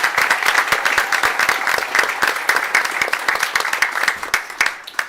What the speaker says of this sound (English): So let's please have a round of applause for our families.